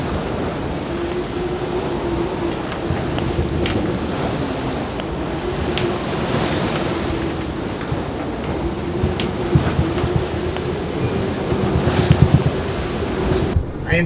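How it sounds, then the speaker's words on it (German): Force 8 wind roars with waves breaking around a small sailboat on the Baltic Sea, a loud continuous rush with heavy wind buffeting the microphone and occasional sharper gusts and crashes. "Der Wind briest, als ich dann die Landabdeckung verlasse, auf Windstärke 8 mit Spitzen bei 40 Knoten auf."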